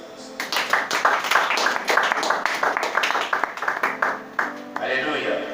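A congregation at a French-language church service claps in quick, steady rhythm, hands ringing out close and bright beneath a voice speaking over the applause.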